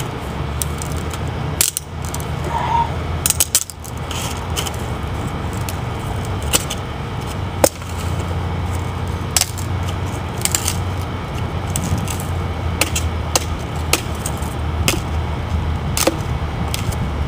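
A Buck 632 Masa knife chops wood in a series of sharp, irregular knocks and clicks over steady outdoor background noise, close and moderately loud, with no talk.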